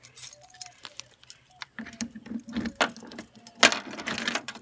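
Keys to a 1994 Chevrolet Corvette jingle and clink in short metallic bursts, scattered irregularly and close by, with light handling noises between them.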